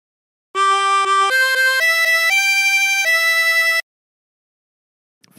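La Cucaracha phrase played on a 16-hole tremolo harmonica, a clear run of about seven sustained, wavering notes stepping up and down in pitch, heard alone and up close.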